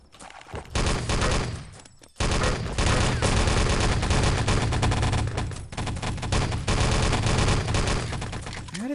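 Rapid, loud gunfire from an online multiplayer shooter video game rattles almost nonstop in close, dense bursts, with a brief lull near the start before the shooting resumes.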